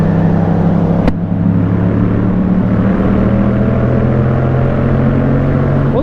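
Yamaha MT-07 motorcycle running hard at speed through the gears toward top speed, a loud steady engine drone with strong low harmonics and wind roar, one sharp click near the start and a slight pitch shift as it pulls on.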